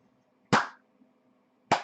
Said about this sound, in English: Slow motion clap